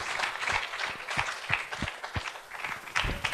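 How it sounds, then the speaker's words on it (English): Audience applause at a lifetime achievement award presentation during an international legal conference, a room of people clapping in an uneven patter with distinct individual claps, moderately loud and ongoing. "Big round of applause."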